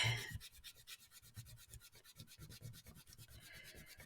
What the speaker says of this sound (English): just go over it with my bone folder